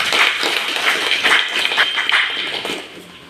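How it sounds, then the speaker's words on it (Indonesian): Applause at a school gathering for colleagues of a teacher training cohort: a burst of hand clapping that fills the room steadily for a few seconds, then tapers off toward the end. "Kasih aplaus untuk kawan-kawan."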